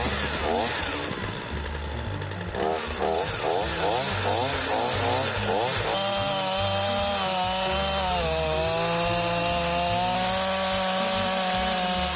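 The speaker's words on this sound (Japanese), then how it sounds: "チェーンソーで切って低くしてしまおうと思います" A chainsaw cuts down a wooden chopping block used for splitting firewood, its engine droning loud and continuous with rising and falling pitch as the chain bites through the wood.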